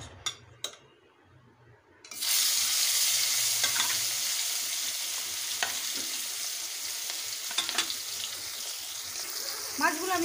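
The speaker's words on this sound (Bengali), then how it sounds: "মাছগুলো আমি ভালোভাবে ভেজে নেব" Rohu fish pieces slide into hot oil in a kadai; after a short quiet stretch with a couple of taps, a loud, close sizzle erupts and holds steady, with occasional spatters and scraping.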